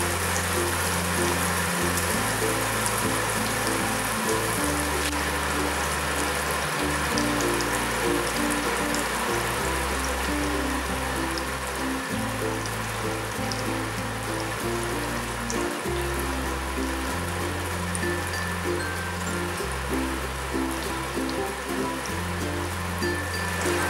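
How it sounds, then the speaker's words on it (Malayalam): Fish sizzling steadily in a pan over a medium flame while frying Kerala-style meen pollichathu, a dense continuous crackle that fills the whole stretch, with a low steady backing underneath and no talking. "ഫുള്ളായിട്ട് ഫ്രൈ ചെയ്തെടുക്കാം"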